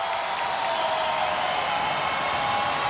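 A large Australian contingent cheers and applauds at an amateur featherweight boxing bout, a dense, continuous roar of crowd noise and clapping filling the arena with no pause.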